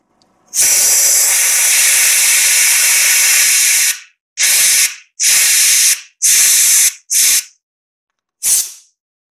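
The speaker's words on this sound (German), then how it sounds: "Jetzt vorsichtig hier mit Druckluft." Compressed air blasting into an opened carburetor: one long loud hiss of about three seconds, then four shorter bursts in quick succession and a final brief blast, each cutting off sharply into silence.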